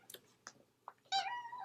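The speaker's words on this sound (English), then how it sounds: "So if you hear my cat meowing, sorry." A pet cat meows several times in short, close calls, ending in a longer drawn-out meow, with nothing else going on in a quiet room.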